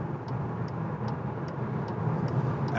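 Inside a 2021 Seat Arona joining a motorway from a slip road, a steady low road and engine rumble fills the cabin with faint regular ticks above it, no one speaking.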